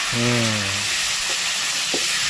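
Ingredients for a prawn and jackfruit-seed dal sizzle together in a hot pan, a steady close hiss running throughout, with a short humming tone near the start.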